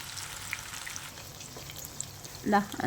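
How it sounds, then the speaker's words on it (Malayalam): Chicken pieces for chilli chicken fry in a pan with a faint, steady sizzling hiss, and a brief louder crackle near the end. "ഇതുപോലെ നമുക്ക് ചിക്കൻ ഒന്ന് ഫ്രൈ ചെയ്തെടുക്കാവേ"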